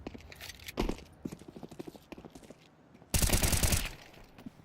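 Rapid gunfire in a Counter-Strike match: quick bursts of sharp shots and rattling clicks, then a dense, loud volley near the end, with faint commentary underneath.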